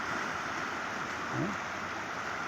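Tidal water rushes fast past drainage pipes at a holding pond, a steady broadband roar of flow with a faint voice-like murmur partway through.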